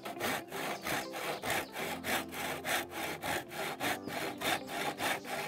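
A hand saw cuts through a wooden dowel fitted into stool legs, with steady back-and-forth strokes about two per second, close and fairly loud, and no talking.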